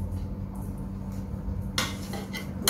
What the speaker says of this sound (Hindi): अब इसको हम डिश आउट करते हैं।